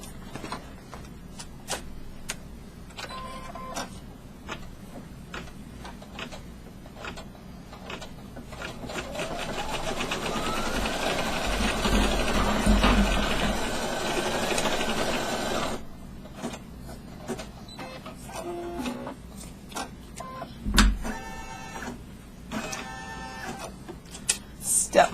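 An embroidery machine stitches a placement outline for the hair on an in-the-hoop corner bookmark, giving a steady, close mechanical whir and rapid needle clatter that runs for about fifteen seconds. Quieter pauses come before and after the stitching.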